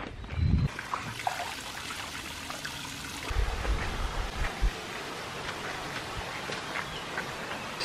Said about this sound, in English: like a 5 second drive down the road is this amazing waterfall